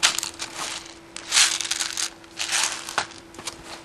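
A magazine drops free from a WELL R-6 M4 airsoft electric gun, with a few BBs spilling out in a quick cluster of small light clicks and rattles, close and fairly loud, with no talking.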